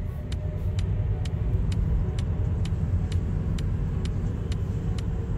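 A Tesla Model 3 on Enhanced Autopilot rolls to a stop, with a steady low cabin road rumble under a regular series of faint high ticks, likely the turn signal, and no talk.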